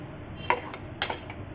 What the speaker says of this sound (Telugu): ముక్కలు మగ్గడానికి దాని మీద మనం మూత పెట్టాలి.